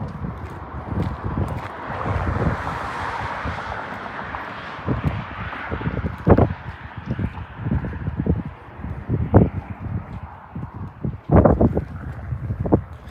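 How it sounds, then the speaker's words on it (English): Gusty wind on Route 66 buffeting the microphone with a steady rushing roar, rising and falling in strong bursts, with a few thumps underneath. "Got windy over here."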